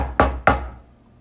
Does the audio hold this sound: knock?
yes